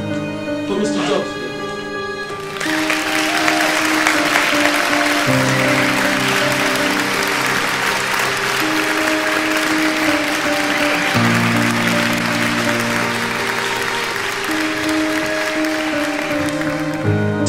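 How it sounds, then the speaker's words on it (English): Audience applause for Mr. Jobs at a technology event, a steady wash of clapping from about three seconds on, over sustained musical tones and a brief lead-in. "An applause for Mr."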